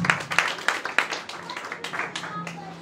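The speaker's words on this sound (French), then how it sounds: "Applaudissez madame Joseph." Scattered hand claps from a graduation audience at a beauty institute, a handful of sharp, fairly regular claps that thin out and soften toward the end.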